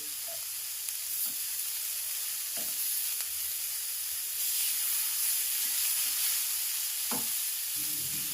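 Cabbage and moong dal thoran frying in a hot pan on the stove as it is stirred, with a steady soft sizzle and a few scraping strokes of the spoon, no talking.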